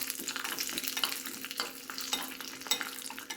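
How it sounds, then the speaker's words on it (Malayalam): Cashew nuts sizzling and frying in hot oil in a pan while pongal is prepared, with steady crackling bursts and occasional stirring scrapes, close and moderately loud with no talk. "ഇനിയിപ്പോൾ അണ്ടിപ്പരിപ്പ് ഇടുന്നുണ്ട്."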